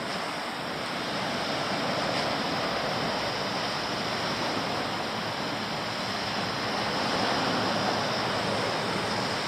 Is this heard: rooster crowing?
no